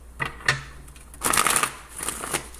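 A tarot deck is shuffled by hand in short bursts, papery riffles and soft slaps close up, separated by brief pauses.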